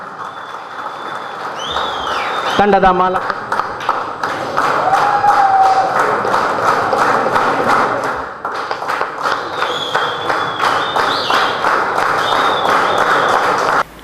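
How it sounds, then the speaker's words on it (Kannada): Loud clapping from an audience at a cricket league team jersey launch, dense and steady with thumps, whistles and brief voices mixed in. "ಜೋರಾದ ಕೈ ಚಪ್ಪಾಳೆ ಬರಬೇಕು."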